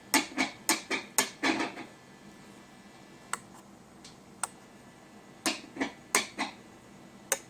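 A screwdriver taps the pickups of a Stratocaster guitar played through an amp, giving sharp metallic clicks: a quick burst of about eight taps, a pause with a few scattered knocks, then another short cluster, with no talk.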